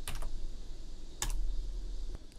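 Typing on a computer keyboard while coding in Flutter, a few isolated key clicks spaced apart over a low steady room hum.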